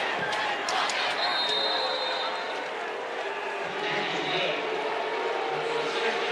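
Loud, sustained roar of a college football stadium crowd at an SMU versus Louisville game, booing and shouting at the officials over a call late in the fourth quarter, steady and dense throughout with a commentator talking over it.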